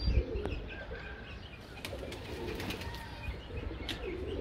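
Pigeons coo softly outdoors while wings flap in brief bursts, with a few chirps scattered over a steady background hum.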